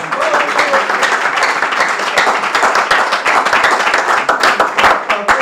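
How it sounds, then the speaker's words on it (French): A crowd at the final of a quiz competition applauds a student loudly, many hands clapping in a sustained, busy roar with sharp individual claps standing out throughout. "Est-ce qu'on peut encore l'applaudir très fort?"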